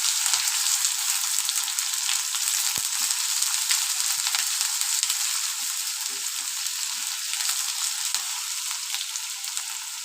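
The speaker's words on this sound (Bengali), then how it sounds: "যতক্ষণ না পেঁয়াজের কালারটা চেঞ্জ হয়ে যাচ্ছে এটা আমাদের ফ্রাই করে নিতে হবে।" Sliced onions frying with cardamom in hot oil for Bengali ghugni make a loud, continuous close sizzle for about ten seconds, with faint scattered stirring ticks underneath and no talking.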